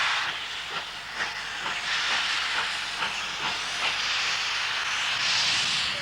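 Steam hisses loudly and continuously from a steam locomotive on the North Yorkshire Moors Railway, with rhythmic chuffing pulses beneath the broad hiss and no talk.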